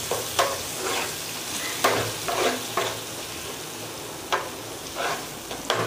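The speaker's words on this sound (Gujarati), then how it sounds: "હવે આપણે મસાલા કરીશું, એમાં લાલ મરચું નાખીશું, હળદર, ધાણા જીરું, મસાલાને શેકી લઈશું." Red chili, turmeric and coriander-cumin powder roast in a hot pan for taco filling, a steady sizzle broken by repeated scraping stirs of the spoon, close and with no talk.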